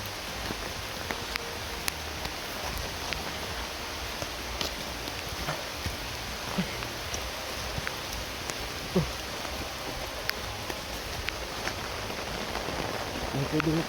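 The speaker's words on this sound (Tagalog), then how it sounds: "Sobrang laki na ng ulan" Heavy rain pours down steadily outdoors, a dense continuous hiss of drops striking surfaces, with occasional sharper drips and taps scattered through; no one speaks over it.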